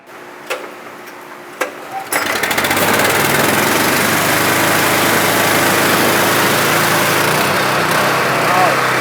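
A couple of sharp clicks, then a pressure washer's small engine roars to life and runs steadily at high revs, over-revved, loud and close, with a constant droning whine.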